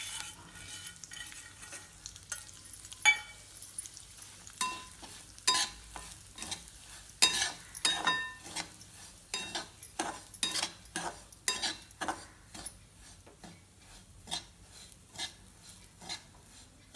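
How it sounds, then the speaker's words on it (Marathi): Semolina roasting in oil in a pan while being stirred, a soft steady sizzle broken by repeated scraping strokes of the spoon that grow more regular and rhythmic toward the end, close and fairly quiet with no talking. "आता सुरुवातीला आपण तेल घेऊया, अंदाजे घ्यायचे। त्याच्यामध्ये रवा छान खमंग भाजून घ्यायचा आपल्याला।"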